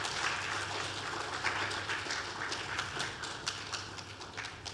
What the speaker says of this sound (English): Please and please give yourself a round of applause,